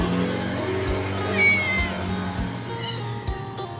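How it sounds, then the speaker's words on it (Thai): Stray cats meow repeatedly while waiting to be fed, several close cries rising and falling over a soft low background hum. "อันนี้น้องแมวจรนะครับ"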